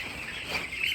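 Twelve-day-old broiler chickens crowded in a poultry farm shed, a dense, continuous chorus of high chirping and peeping from many birds at once, steady and fairly loud with no talk.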